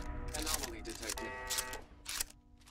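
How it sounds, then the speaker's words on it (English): Mechanical whirring and clicking from an Assaultron robot in Fallout 4, heavily modded survival play, with a robotic synthesized voice over the near, fairly quiet electronic tones. "That is the sound of an Assaultron."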